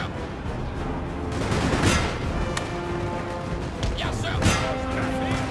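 Musket volleys and scattered shots crack through a Napoleonic battle in the strategy game Napoleon: Total War, with a couple of sharper reports standing out over a dense, noisy battlefield din.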